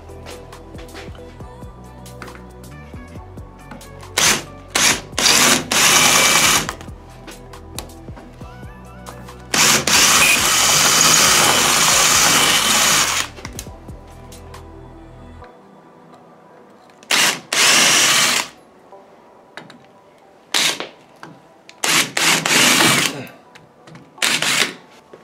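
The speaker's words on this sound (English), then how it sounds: "So I'll just drill those out" Several loud bursts of a power drill whining as it drills out metal rivets on an Audi 2.7 Bi-Turbo, each lasting a second or two, separated by quieter pauses with faint handling noises.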